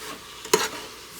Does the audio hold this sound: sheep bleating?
no